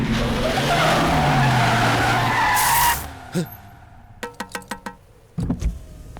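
A car pulls up and skids to a halt on a forest road, a loud sustained rush of tires and engine that cuts off abruptly, followed by a few sharp clicks and thuds like doors.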